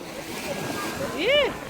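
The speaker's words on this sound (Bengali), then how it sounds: "দেখেন আমরা আসার সাথে সাথে এত বাতাস আর এত ঢেউ" Gusty wind and breaking sea waves on an open shore make a steady broadband rush, with a brief tonal whistle-like sweep swelling near the end.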